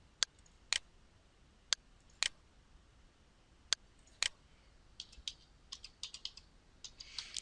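Keys on a computer keyboard being typed to enter a file name, sparse separate clicks at first and then a quicker cluster of taps, quiet and close with no talking.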